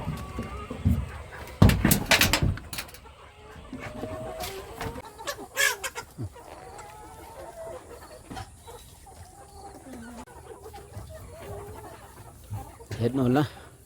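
Chickens cluck and call close by in a yard while being fed grass and grain, repeated clucks and squawks scattered throughout, with a person talking in between.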